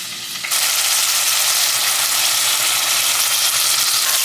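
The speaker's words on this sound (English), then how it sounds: "Cook my rice first. I'm gonna brown my rice." Rice browning in a pan on a stovetop burner gives a steady, close, loud sizzle that starts abruptly and holds as a dense, even hiss with no voices.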